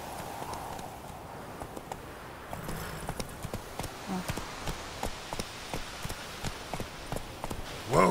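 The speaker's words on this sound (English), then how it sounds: "Whoa there, Roach" Horse hooves clip-clop at a steady walking rhythm in The Witcher 3 game, moderately close, with light ambient background and no talk over them.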